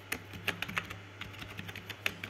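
Keys clatter on a computer keyboard in an irregular run of light, close taps over a faint steady hum, with no talk.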